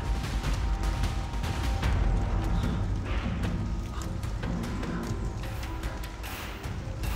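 Dense crackling bursts of firecrackers go off continuously under a loud, rumbling wash of noise, with sharp pops scattered throughout.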